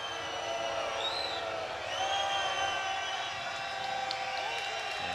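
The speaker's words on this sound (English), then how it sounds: "This crowd has come alive." A stadium crowd cheers and whoops at a Seattle Seawolves rugby match against New England at Starfire, a steady, loud wash of voices that swells slightly about midway and holds throughout.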